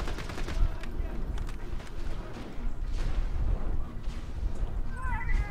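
Gunfire in the video game Borderlands 2, dense rumbling bursts of shooting and blasts that carry on throughout, with a voice talking over it in places.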